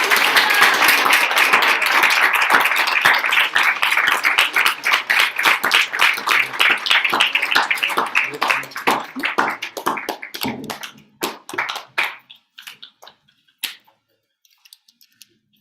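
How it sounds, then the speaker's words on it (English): Audience applause at the close of a devotional class, dense clapping from many hands that thins out into scattered individual claps and fades to near silence. "Let's give another round of applause."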